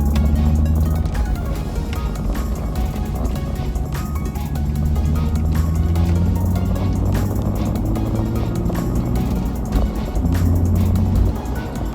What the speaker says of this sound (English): car pulls away just a little bit smoother than it was before